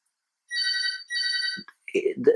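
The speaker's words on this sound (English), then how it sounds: "that phone in the background's doing my head in" A telephone rings in two long trilling bursts somewhat in the background, followed by a voice starting to speak.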